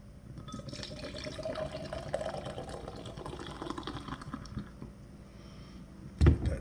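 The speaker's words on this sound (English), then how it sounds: "I'm gonna hard pour this one." A drink hard poured into a glass, a steady close splashing and gurgling stream lasting several seconds, then tapering off before a sharp clunk at the end.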